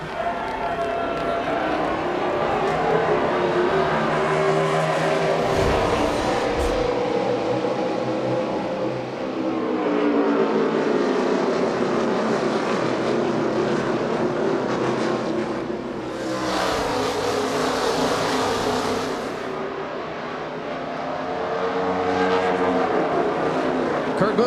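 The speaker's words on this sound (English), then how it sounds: "Kurt Busch, great restart" NASCAR race cars roar on a restart at New Hampshire, a loud continuous engine drone that swells and fades as the field accelerates, with race commentary talking over it throughout.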